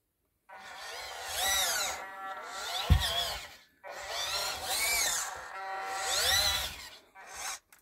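A Huina 1583 RC loader with upgraded axles and gearboxes whirs in two bursts of high-pitched electric motor and gear whine, rising and falling, separated by a pause with a single low thump; close and moderately loud.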